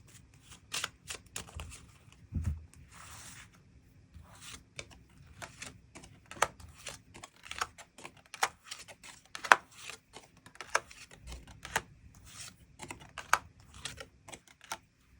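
Tarot cards get shuffled and drawn close up, making soft, irregular flicks, taps and slides in scattered clusters against a quiet background.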